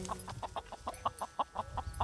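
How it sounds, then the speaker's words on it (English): Chickens cluck in a rapid, steady series of short calls, fairly close and clear over light outdoor background noise, with no talking. "there's literally chickens"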